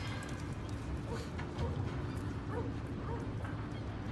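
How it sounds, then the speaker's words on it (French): A dog yipping and whimpering in quick, repeated bursts over a dense, noisy background, fairly close, with a person speaking briefly nearby. "Sympa ton chien."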